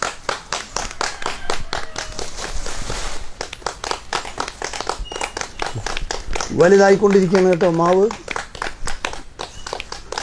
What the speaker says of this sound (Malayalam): കയ്യടിക്കുക, എല്ലാവരും ഒന്ന് കയ്യടിക്കുക.